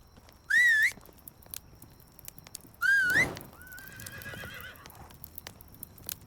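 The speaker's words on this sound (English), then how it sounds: "I hear a horse somewhere." A horse in the video game Medieval Dynasty whinnies twice in bright rising calls, followed by softer snorting and faint clip-clop, set against quiet game ambience.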